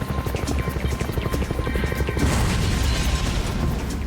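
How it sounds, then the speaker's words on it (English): A military helicopter approaching a compound during a nighttime raid, its rotor thumping in a steady rapid pulse that swells louder and closer, with a rushing roar building in the second half. "One of the helicopters positioned nearby makes its way to the compound to assist in evacuating them."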